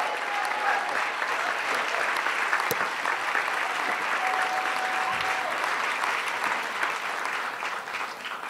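A large convention crowd at the National Action Network opening gives a hearty, sustained ovation for the board chairman, a dense, even roar of many clapping hands that holds strong before easing slightly at the end.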